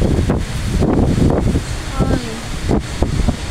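Strong wind roars and buffets the microphone throughout during heavy rain in Vietnam, with a person's brief exclamations breaking through.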